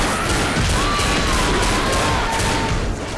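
Dense gunfire in Left 4 Dead roars as a loud, continuous blur of shots with no clear gaps, close and overwhelming throughout.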